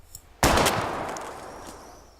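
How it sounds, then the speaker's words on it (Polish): A single gunshot in the video game Life Is Strange: a sudden loud, sharp blast followed by a long reverberant tail that fades over about two seconds, with no talking. "Nie wiem, gdzie był ten strzał."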